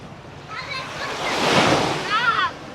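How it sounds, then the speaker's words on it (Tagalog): Sea waves wash onto a beach shore, a soft swelling rush that builds to a louder surge midway and then recedes, with wind in the background and a voice speaking faintly. "Sarap ng tunog ng dagat, no?"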